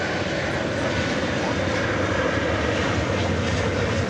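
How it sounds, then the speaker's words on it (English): A Boeing 737-800 jet arriving from St. Louis at DFW airport roars steadily and loudly with a deep rumbling engine noise, while a voice talks over it. "An arrival from St. Louis, 737-800."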